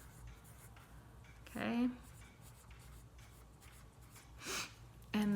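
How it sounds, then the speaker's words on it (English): Pencil scratching on paper while a plant is sketched, faint rhythmic strokes under quiet room tone, with a teacher's brief spoken words in between. "Okay, so I'm drawing my plant."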